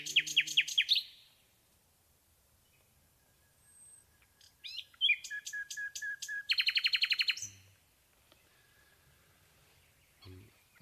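Common nightingale song at the break of day: bursts of rapid, repeated whistled phrases and trills, close and clear, separated by pauses and quieter chirps.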